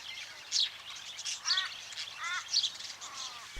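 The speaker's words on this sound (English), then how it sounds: "we have set up camp under a huge gum tree where birds are extremely busy" Birds chirp and call in a huge gum tree at an outback campground, several bright squawking bursts repeating every second or so over a soft, steady background hiss.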